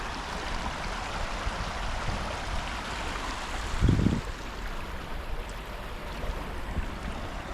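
Steady rushing of a clear river flowing in Clarksville, Arkansas, a continuous broad wash with a brief louder splash in the middle.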